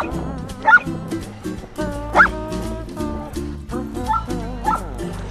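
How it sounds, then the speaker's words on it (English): A dog barks and yips repeatedly in short, uneven bursts, close and fairly loud, with a few whiny high yelps mixed in. "See how the barking propels her this way?"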